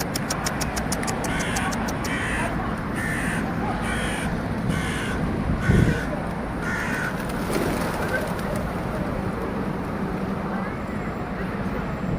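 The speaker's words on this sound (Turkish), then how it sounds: "Burada da bayağı bir kuş varmış ya." Crows caw repeatedly in a rhythmic series, with traffic rumbling in the background and a brief thump midway.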